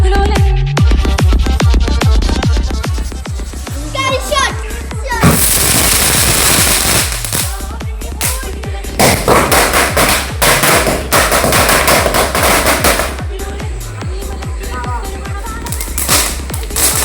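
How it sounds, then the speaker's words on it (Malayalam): Firecrackers going off for a Perunnal celebration in a rapid string of sharp cracks and pops, then denser crackling bursts, loud and close with brief pauses and some voices. "പടക്കം"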